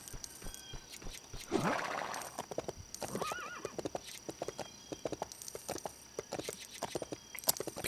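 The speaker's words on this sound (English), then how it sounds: "I guess I'll just ride a horse then." Horse in the Lego City Undercover video game giving one shrill neigh amid steady, rhythmic clip-clop of hooves, fairly quiet, with no talking.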